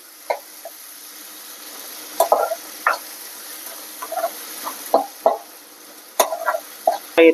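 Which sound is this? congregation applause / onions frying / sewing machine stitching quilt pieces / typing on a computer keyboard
onions frying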